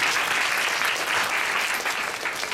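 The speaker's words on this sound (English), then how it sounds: "So we definitely want to give them a round of applause too." A round of applause from an audience at an introductory gathering: dense, even clapping that carries steadily at moderate volume with no other sound.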